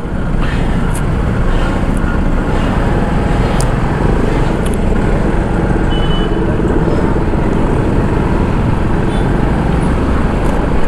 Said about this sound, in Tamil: ஐயோ என்னங்க டிராஃபிக் இப்படி இருக்கு